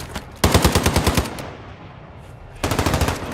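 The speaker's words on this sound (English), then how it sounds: "You are taking effective fire." Gunfire in the video game Call of Duty Warzone 3 DMZ: two close, loud bursts of rapid automatic fire separated by about a second of quiet, with no one talking.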